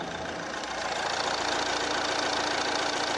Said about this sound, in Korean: 먼저 엔진, 소음 컨디션부터 체크해보도록 하겠습니다.